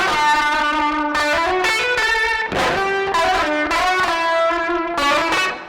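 An electric guitar played through a Kilohertz overdrive and a Universal Audio plate reverb emulation, bright sustained chords and melodic notes ringing out in phrases with a lush, slightly distorted tail, loud and close with no talking.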